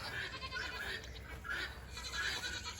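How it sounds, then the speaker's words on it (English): Goats bleat on a farm in Leesville, South Carolina, on a frosty 22-degree morning, several overlapping calls repeating at a moderate distance over steady background noise. "when you have farm animals hollering, good morning, goats"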